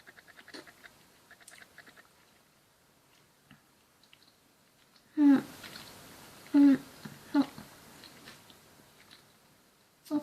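Someone chews a chewy candy sushi close to the mic, with soft wet smacks and a few louder bites standing out against near-silence.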